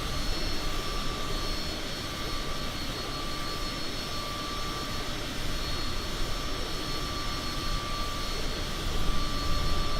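Cessna CJ4 business jet cruising in Microsoft Flight Simulator 2020, a steady, unbroken jet engine hum with a constant whine and no talking over it.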